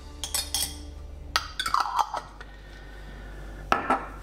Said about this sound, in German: Und dann schließe ich wieder den Topf.